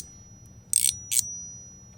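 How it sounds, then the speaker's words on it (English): Two short, bright metallic rings in quick succession from a Wind Spirit (Feng Ling) metal fidget slider by MOT, each a clear high-pitched, tuning-fork-like ping over quiet background hum. "it rings like a tuning fork kind of long after you've pushed it"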